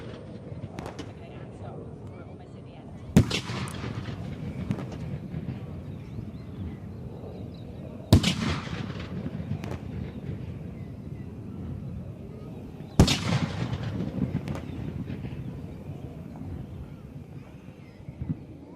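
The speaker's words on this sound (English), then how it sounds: "these particular cannons were used during the Vietnam War, most notably during the Battle of the Coral" Vietnam War-era cannons fire ceremonial rounds at an Australia Day flag-raising, three sharp booms spaced about five seconds apart, each ringing out over crowd ambience and a commentator's voice.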